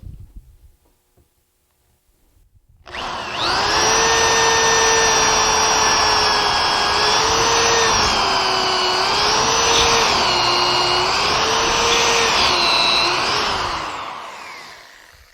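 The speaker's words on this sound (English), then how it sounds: "take that step drill and drill in from the stile into the rail" After a moment of quiet, a power drill with a step bit whines at high speed steadily into wood for about ten seconds, pitch wavering slightly as it bites, then stops.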